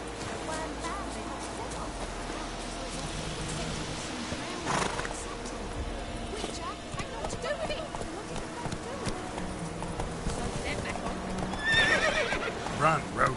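Roach, the horse in The Witcher 3 video game, gallops with a steady clip-clop of hooves and whinnies loudly, amid continuous game sounds and voices.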